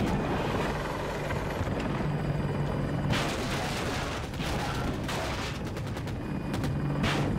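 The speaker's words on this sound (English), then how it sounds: "Tracking helicopter!" Attack helicopter in the Battlefield 2042 video game, a steady rotor drone under dense rattling gunfire and bursts of machine-gun fire, with a few sharp loud cracks toward the end.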